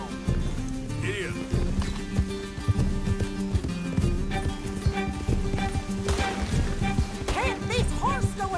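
Horses gallop in Red Dead Redemption II, their hooves pounding in a steady run under gunfire, crashes and other game noise, while people talk over the action.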